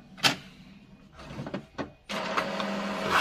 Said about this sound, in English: It should start printing.